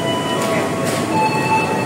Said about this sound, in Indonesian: Ini ada kereta api bandara yang ke arah bandara